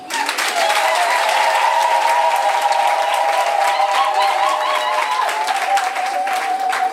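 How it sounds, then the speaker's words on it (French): A French audience bursts into sustained applause, steady dense clapping from a large crowd that carries on without a break for several seconds, with a few voices and a held tone mixed in. "Je voudrais que nous puissions tous nous applaudir."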